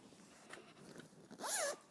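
A zipper is pulled once on a fabric-lined project bag with an orange zipper, giving a quick, close, bright rasp near the end after faint quiet handling.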